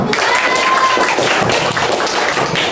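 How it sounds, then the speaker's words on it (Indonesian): Brief burst of classroom clapping as students applaud a presenting group, close and fairly loud over a couple of seconds, with some voices mixed in. "Oke, beri tepuk tangan untuk kelompok membeku."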